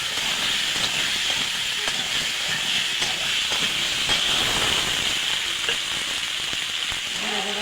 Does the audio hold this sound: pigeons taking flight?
no